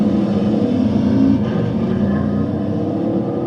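A Toyota Corolla race car engine in the TORCS racing game holds a loud, steady drone at high revs throughout, with slight shifts in pitch and no talk.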